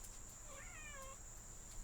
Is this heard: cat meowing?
yes